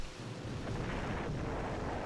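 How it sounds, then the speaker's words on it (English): A warship blowing up during a night naval battle in the Jutland video game, heard as a loud, sustained rumbling roar of broadband noise lasting the whole moment, with no talk over it. "That was a big explosion."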